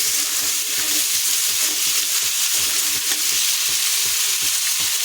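Eggplant and potato frying in a chili and cumin tempering, a loud, dense, steady sizzle with faint rhythmic stirring taps underneath, close and free of speech.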